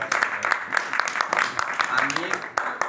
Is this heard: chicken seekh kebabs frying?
no